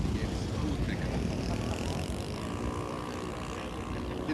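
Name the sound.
radio-controlled model airplane with an OS-90 four-stroke engine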